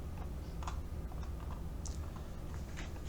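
Typing on a new computer keyboard, scattered clicks and taps in an irregular rhythm over a steady low room hum, fairly faint and close by with no talking.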